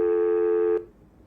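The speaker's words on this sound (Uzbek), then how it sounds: "Qo'ng'iroqni amalga oshiryapman." A telephone call tone plays as an outgoing call is placed: a steady electronic beep with bright harmonics holds for under a second, then cuts off abruptly, leaving quiet background hiss.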